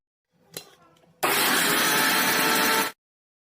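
An electric beater whips an egg and oil mixture for mayonnaise, starting abruptly after a few faint clicks and running as a loud, steady motor whir for nearly two seconds before cutting off.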